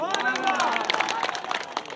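Audience at a gathering clapping with a mix of voices and speech babble, rhythmic claps layered over chatter and a tonal voice, fairly loud and continuous throughout.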